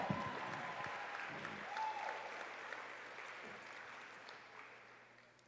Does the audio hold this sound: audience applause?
yes